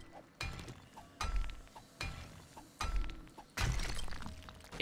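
Blocks shattering in the Seven Days To Die survival game, a series of about five sharp crashing impacts with debris clatter, spaced roughly a second apart, loud and close with no talk over them.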